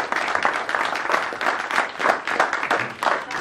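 An audience applauds young participants at a Lions Club youth event on the Baie de Somme, with steady, dense clapping from a sizeable crowd held at moderate loudness throughout.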